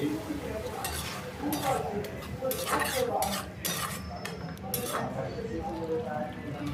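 Spice masala being stirred in a pan for a Bengali sea crab and potato curry, with repeated metal spatula scrapes and clinks against the pan over a low sizzle.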